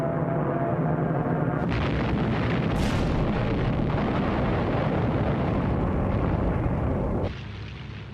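Waves of Japanese Zero planes bomb American fighters parked on island airfields in archival WWII footage, producing a continuous, dense roar of explosions and blasts, loud and sustained, with no voices.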